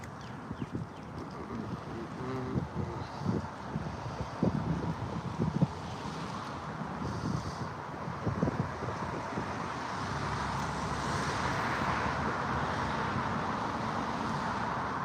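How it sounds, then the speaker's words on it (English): Breezy outdoor wind in Florida, a steady rushing and buffeting that builds toward the end, mixed with scattered knocks and rustles near the microphone. "It's nice and breezy too."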